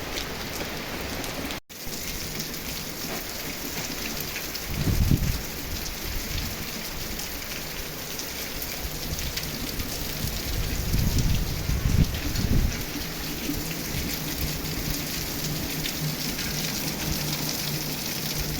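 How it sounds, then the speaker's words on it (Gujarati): Heavy rain pours down steadily in a dense, hissing wash, with a couple of low rumbles swelling briefly in the middle. "ધોમ ધોકાર વરસાદ ચાલુ થઈ ગયો"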